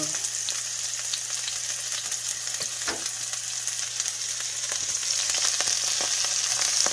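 Onion, garlic and seasoning sauté in a pot over medium flame, a steady close sizzle with occasional stirring clicks, growing a little louder near the end; no talking.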